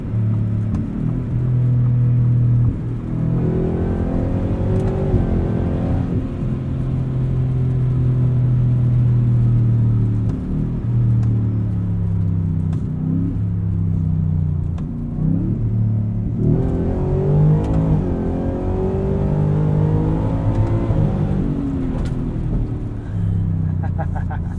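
A 2023 Ford F-150 Raptor R pulling on the street from inside the cab, engine rising and falling through several close-ratio gear changes in loud deep surges, with someone talking over the cabin rumble.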